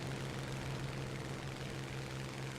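Aircraft in a combat flight simulator game, a steady engine drone with a constant low hum, faint and continuous.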